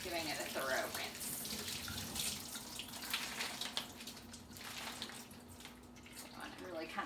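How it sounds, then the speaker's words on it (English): Cool tap water runs steadily into a kitchen sink as a cored head of lettuce is rinsed, a close, continuous splashing stream with uneven gurgles and spatters as the leaves move under the flow. "I'm coming back over to the sink using some cool water and just focusing on the outside layer"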